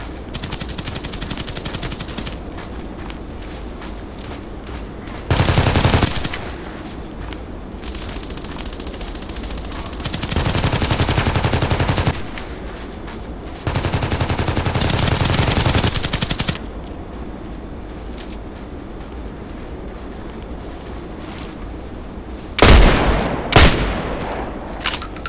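Gunfire in the Contract Wars video game: several loud bursts of automatic fire at intervals against a steady background hum, with a final sharp burst near the end and no talk.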